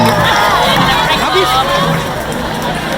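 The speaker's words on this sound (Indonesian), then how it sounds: "Tepuk tangan yang paling gede buat kalian semua teman-teman." Large concert crowd in Padang at a show cheering and applauding, a loud, dense roar of shouts and clapping that holds steady and then eases slightly toward the end.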